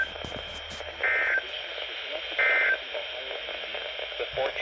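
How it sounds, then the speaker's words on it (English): Two short, steady beeps from a NOAA Weather Radio warning alarm test, about a second apart, play over a hissy radio broadcast background. "This ends the test of the National Weather Service weather radio warning alarm."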